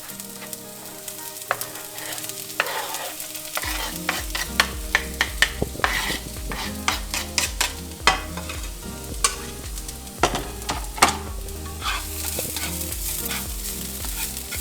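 Onions fry in hot olive oil in a pan for spaghetti with meatballs, with a steady loud sizzle throughout and repeated sharp clinks and scrapes from stirring, without any speech.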